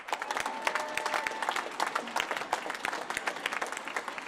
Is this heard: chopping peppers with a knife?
no